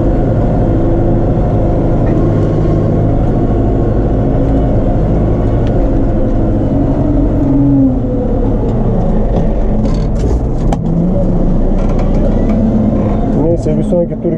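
A Case JX110 tractor plowing wheat fields gives a continuous, loud engine drone with a deep rumble. It holds steady throughout, with only small changes in load toward the end.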